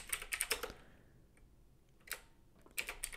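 Fingers type commands for a PowerShell session on a computer keyboard: a quick run of close key clicks, a pause, then short separate bursts of tapping.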